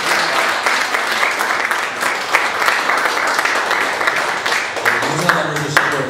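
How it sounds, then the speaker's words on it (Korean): An audience at a Korean-American pastors' and wives' seminar in New Jersey breaks into steady, full applause, dense continuous clapping, while a voice speaks briefly near the end. "우리 목사님 위해서 다시 한번 박수 겸 아니 그 인사 겸 감사 겸 해서 박수 한번 크게 부탁드립니다."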